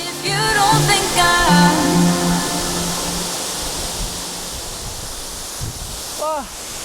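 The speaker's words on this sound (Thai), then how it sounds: "และนี่ข้างหลังของผมนะครับก็คือน้ำตกห้วยตึงเท่าครับ" Steady broadband rush of Huai Tueng Thao waterfall in Thailand, reached by a forest trail, heard close and continuous under a voice speaking over it.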